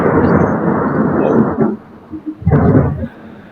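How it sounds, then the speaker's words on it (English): Rumbling thunder sound effect, a loud, close, broadband roll that fades after about a second and a half, then a second shorter crack and rumble. "it's lightning and thunder"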